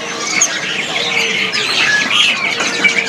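A bush lark from West Nusa Tenggara (NTB) calls in short, bright chirps and squawky notes, repeated closely over a few seconds, close and fairly loud with no talking.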